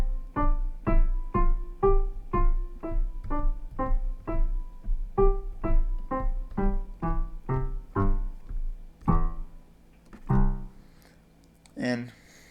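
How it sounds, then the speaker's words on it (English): Piano notes played staccato as a beginner exercise: a steady run of short, detached, evenly spaced taps, each note clipped off quickly, followed by a few longer notes and a brief voice at the end. "The opposite of that is staccato, and that sounds like this."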